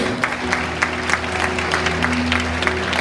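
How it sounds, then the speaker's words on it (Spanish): A congregation claps during a Sunday church service, with scattered, loosely rhythmic hand claps over a steady low hum in a large room. "aplauda a Jesús"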